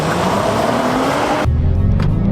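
A Honda Pilot SUV in sport mode launches off the line in a drag race, its engine a loud, steady drone from inside the cabin that shifts to a deeper tone partway through, with no talk.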